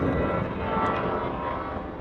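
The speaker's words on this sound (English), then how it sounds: "There goes a flight." A passenger jet flies overhead in Greece, a broad steady roar with a faint high whine, continuous and moderately loud over light wind noise, with no talking.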